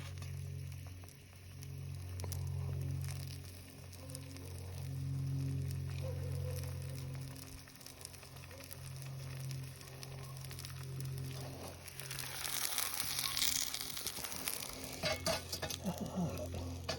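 Duck eggs fry in sausage grease in a pan over a campfire, a steady low sizzle with stirring and scraping, growing brighter and crackly near the end, with no talk.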